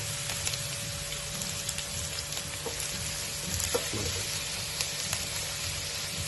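Chicken and vegetable samosa filling fries and browns in a pan over a normal flame, a steady close sizzle with scattered crackles and occasional stirring clinks.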